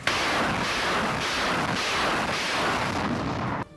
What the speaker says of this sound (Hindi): रॉकेट के धमाके रह रहकर शहर में सुनाई देते रहे।